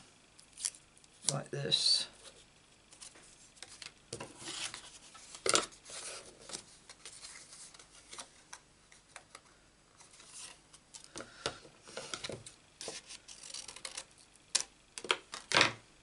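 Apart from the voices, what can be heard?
scissors cutting out paper card pieces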